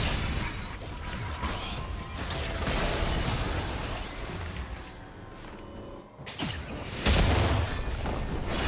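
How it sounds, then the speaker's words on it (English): A turret being destroyed in League of Legends, with heavy booms, crashes and whooshing game effects layered together, a sharp drop near the end, then another loud burst. "Turret has been destroyed."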